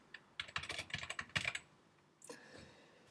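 A burst of rapid computer keyboard keystrokes, close and crisp, rattling in quick clusters before a pause and a few softer taps near the end, with no voices.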